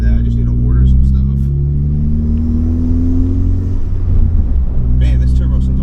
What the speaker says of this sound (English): Man, this turbo sounds amazing.